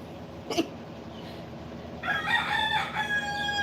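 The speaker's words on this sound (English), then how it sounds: "and the roosters caw" A rooster crows once, clear and fairly near, over a steady background hum, after a faint brief sound earlier.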